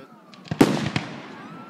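Fireworks explode over a street in Bellingham: two sharp, loud bangs a moment apart, each followed by a fading crackling rumble.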